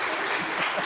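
Brief burst of applause from a live podcast event audience, a dense, steady wash of clapping at moderate loudness with no voices over it.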